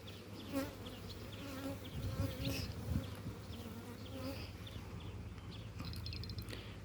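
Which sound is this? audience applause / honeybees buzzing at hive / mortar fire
honeybees buzzing at hive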